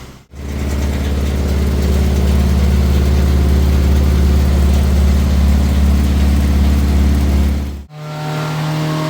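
A Honda Integra engine runs on dyno rollers at partial throttle, producing a steady, loud, continuous drone held at even load for several seconds, then briefly cutting out before settling to a lower, smoother hum.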